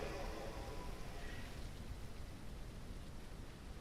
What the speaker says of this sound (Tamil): ஓகே ஃப்ரெண்ட்ஸ் மழை பெய்யுது